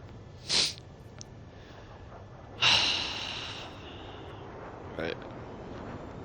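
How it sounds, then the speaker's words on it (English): A person sniffs, with a sharp nasal intake early on and a longer, louder snort-like breath midway. A brief, fainter sniff comes near the end, and each one stands alone over quiet background noise. "Oh man, I'm sniffing so hard."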